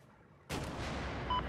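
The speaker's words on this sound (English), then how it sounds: "I like that tap fire." Tap-fired gunshots in the video game Battlefield 4, a single sharp loud report after brief quiet, followed by a ringing decaying tail.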